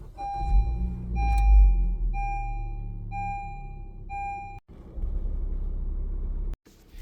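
A 2024 car started with its push-to-start button: a series of evenly spaced warning chimes over a low idle hum, then a cut and a deeper, fuller engine rumble settling in close by.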